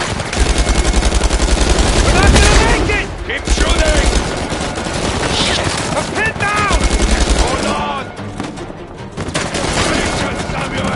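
Loud, sustained gunfire from the video game Uncharted 4, with rapid automatic bursts and scattered single shots filling the whole span, mixed with game sound effects and shouting voices.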